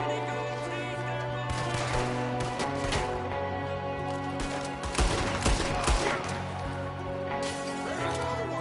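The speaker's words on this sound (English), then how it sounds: "There's another one shooting from the window." Gunfire in Red Dead Redemption 2 during a shootout with an enemy firing from a window, made of repeated close shots and volleys over tense music, with speech mixed in.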